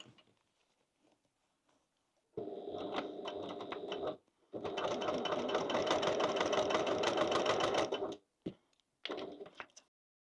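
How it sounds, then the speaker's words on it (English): A sewing machine stitches along the bottom of the card slots on a crossbody bag, two steady rapid runs of stitching, the second longer, separated by short pauses and followed by brief bursts. "So we're sewing along the bottom of each slot only."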